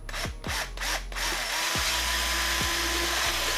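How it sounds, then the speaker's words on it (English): A power drill whirs steadily through a hard helmet shell and its foam lining, with a few sharp clicks and thumps at the start, close up and loud. "get the right size drill bit to match your screw, and then drill your helmet"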